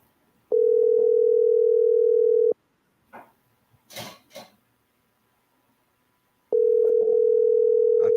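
An outgoing telephone call produces a ringback tone: two long steady tones about six seconds apart. Between them come brief faint rustles and clicks in near silence.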